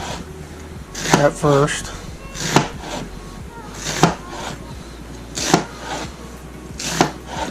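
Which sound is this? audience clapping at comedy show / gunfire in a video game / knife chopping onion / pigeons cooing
knife chopping onion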